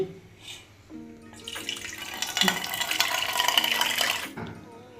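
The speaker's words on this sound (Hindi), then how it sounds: "यहाँ पर डालेंगे पानी।" Water poured into about 400 grams of yogurt in a cooking pot, a steady splashing pour lasting a few seconds, fairly quiet.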